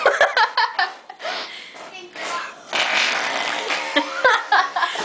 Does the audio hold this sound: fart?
yes